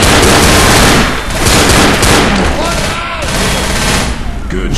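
Rapid gunshots ring out in Left 4 Dead, a loud, dense volley of automatic fire and booms packed close together with game noise throughout.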